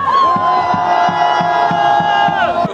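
A large political rally crowd at Gwanghwamun in Seoul shouts in a sustained, loud, chant-like roar, with a steady rhythmic beat pulsing underneath throughout.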